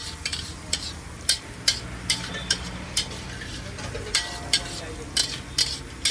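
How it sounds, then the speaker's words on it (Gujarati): Vegetables for mung bean pulao roast slowly over a low flame as a spatula scrapes the pan in quick, regular strokes over a soft, constant sizzle. "એને ધીમા તાપેથી શેકીશું આપણે."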